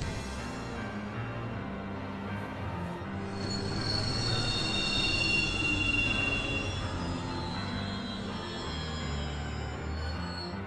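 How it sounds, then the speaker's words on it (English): A train slowing to a stop in the video game Final Fantasy XV, with a heavy rolling rumble and loud, sustained high wheel squeal that swells in the middle and eases off toward the end. "I bet he's behind the train stopping."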